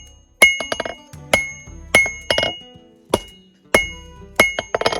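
A hammer strikes steel on an anvil while a blacksmith knife blade is forged and tapered thin, sharp ringing clinks in quick bursts of two to four blows separated by brief pauses, close and loud, with no talking.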